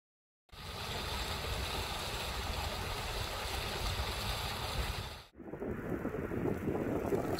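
Strong wind gusting in the aftermath of a storm during a bicycle ride near Santa Maria, California; continuous loud roaring buffeting, dropping briefly before resuming, with no voices.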